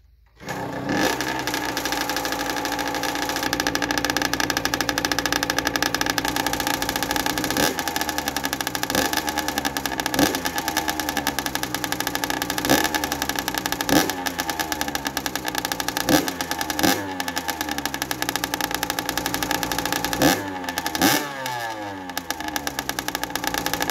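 A Yamaha YZ85 dirt bike fires up at the very start and then runs continuously and loudly close by, its two-stroke engine repeatedly blipped into sharp revs over a steady idle.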